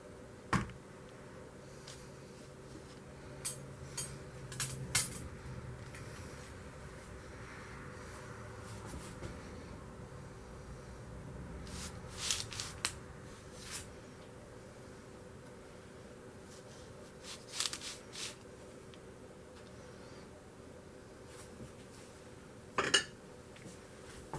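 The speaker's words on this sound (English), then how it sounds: "I'm going to cut a slice out of our Betty Crocker" A knife cuts a slice from a Betty Crocker yellow box cake, giving scattered sharp clinks and taps of utensil on plate over a low steady background hum.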